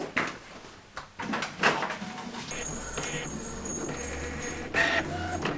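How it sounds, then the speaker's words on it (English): A home office printer for an Etsy shop feeds and prints with a steady mechanical whir and soft clunks from a short distance, with no talk. "And the printer's just behind me."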